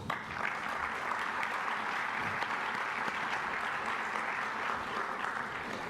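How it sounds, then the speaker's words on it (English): Sustained applause from a large conference audience during opening remarks, steady and dense clapping for several seconds with no voices rising above it. "our great Chancellor Tim White, who does deserve his own round of applause."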